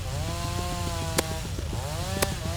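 A chainsaw weapon in the video game Rivals, its engine droning steadily with a rising and falling revving pitch and two brief sharp impacts, heard alone.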